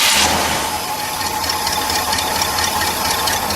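A 1966 Cadillac Eldorado convertible engine idles steadily at close range, a continuous low rumble with a faint rattling texture and no talking over it.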